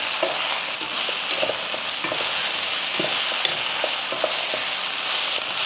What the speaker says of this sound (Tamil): நல்லா அந்த இட்லி சூடாகிற வரைக்கும் கிளறி விட்டுருவோம்.